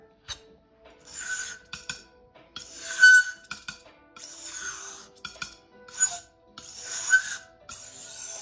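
A blade scrapes blue pearlescent watercolor pigment across a hard surface in a series of short, gritty, hissing strokes, close and fairly quiet, separated by brief pauses.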